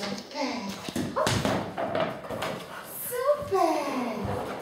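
Dog whimpering and yipping in short bursts during play, mixed with a person's encouraging talk close by.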